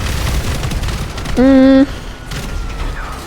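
Widowmaker gun in GTA Online unleashes a rapid barrage of booming explosive blasts, loud and dense, with a brief electronic tone partway through and a voice speaking over the game sounds.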